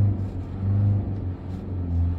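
A Mahindra Scorpio N with traction control off accelerates hard, its engine drone rising and falling in low pulsing surges that sound like wheel spin, heard close from inside the car with no talk.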